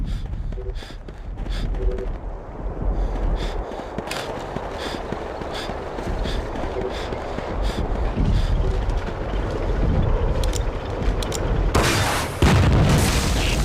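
A Russian tank blown up in the Ghost Recon video game, deep booming explosions and rumbling blasts rolling on continuously, loud and close with a heavier burst near the end, no talking.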